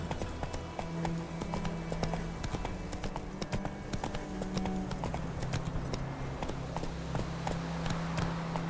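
In The Witcher 3, a horse gallops with steady, rapid hoof clip-clops close by. A low droning game soundtrack plays underneath throughout.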